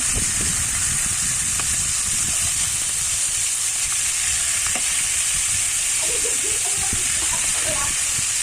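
Chicken pieces fry in hot oil in a pan, giving a loud, steady sizzle and hiss throughout, with a few light crackles and pops near the end.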